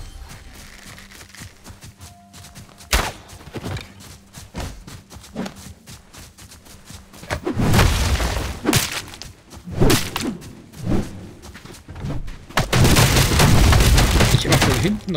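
Sharp gunshots in the video game Soulmask crack and boom in scattered bursts over a low background hum, with whooshing swipes and thuds between the blasts.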